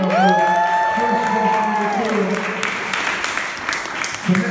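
Audience applause and cheering after a live performance, clapping and whoops rising under a sustained musical tone at first, then continuing as a loose, busy crowd sound.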